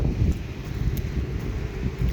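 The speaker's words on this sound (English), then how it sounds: "Sorry, I know it's super windy." Strong gusting wind from an outdoor mountain wind storm roars steadily, with rumbling buffeting noise hitting the microphone throughout.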